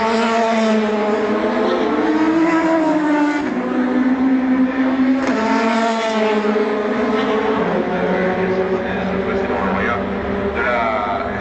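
Loud, sustained engine howl from Le Mans prototype race cars on track during a 24 Hours of Le Mans qualifying session, including the Toyota number 7, with rising and falling pitch as they pass and a commentator talking over it.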